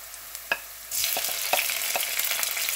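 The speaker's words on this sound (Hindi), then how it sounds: "लहसुन को थोड़ा सा पकाकर यानी कि इसको थोड़ा सा हिलाते रहेंगे" Garlic and onions fry in a pan, with a soft tap before the sizzle swells into a steady hiss, broken by the clicks and scrapes of a spoon stirring, close up and without speech.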